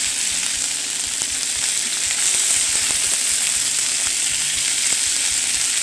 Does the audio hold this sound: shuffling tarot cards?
no